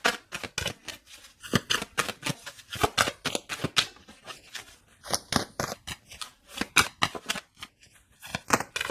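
Tarot cards shuffled by hand before a card is pulled, a rapid sequence of crisp riffling and slapping bursts, close and steady for several seconds with no talk.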